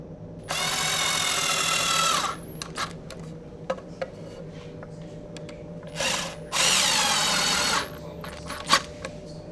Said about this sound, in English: When you drive the screws, they will pull the shelf into alignment.